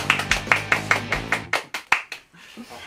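Hands clap close to the microphone in a run of about eight sharp, evenly spaced claps, then a few slower, scattered claps before fading into quiet.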